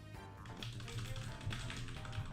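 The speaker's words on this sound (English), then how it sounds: "Oh, you heard the typing? Did you hear that?" Computer keyboard typing heard faintly in a quiet room, a loose run of soft irregular key clicks and taps under a low background hum, with no talk.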